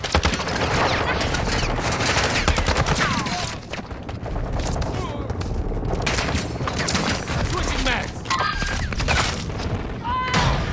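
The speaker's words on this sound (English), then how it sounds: "Taking fire!" Rapid automatic gunfire and booming shots from an assault rifle in Modern Warfare 2 gameplay, loud continuous bursts and explosions with a player talking over the shooting.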